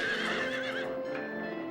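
A horse enemy from the Silent Hill 3 video game neighs and whinnies in a drawn-out cry. The call is loud and close, with faint hoof-like clopping underneath and no voices.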